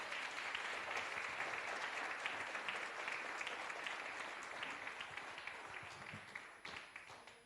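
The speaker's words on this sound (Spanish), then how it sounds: "Un aplauso para el Señor" A church congregation applauds steadily for the full stretch: dense, even clapping from a crowd that stays loud throughout and eases slightly toward the end.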